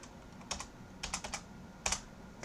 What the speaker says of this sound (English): So I'll type it back in.